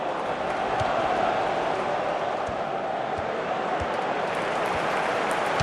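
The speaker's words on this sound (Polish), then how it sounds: "Świetnie, brawa dla bramkarza." Steady crowd applause and murmur from a stadium in the FIFA 16 football video game fills the whole stretch as a dense, continuous wash of noise without distinct breaks.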